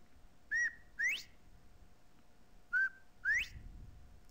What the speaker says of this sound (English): Only the bobwhite, poor bobwhite whistle